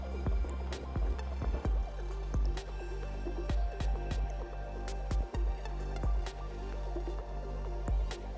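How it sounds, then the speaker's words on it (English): Glycerine falls drop by drop onto a coin, giving a steady run of small, close wet ticks over a constant low background hum. "I managed to get 29 drops of glycerine"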